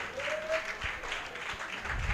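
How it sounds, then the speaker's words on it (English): An audience at a school event, Mafoki Agricultural Islamic Secondary School, claps for a student, giving a steady wash of applause with a faint voice tone rising over it. "Una clap for him, una clap for him, una clap for him."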